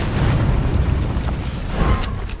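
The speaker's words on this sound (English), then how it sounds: "They're actually throwing grenades." Grenade explosions in Vampire: The Masquerade - Bloodlines 2 produce a sustained, loud, deep rumbling boom that rolls on continuously, with faint higher crackles near the end.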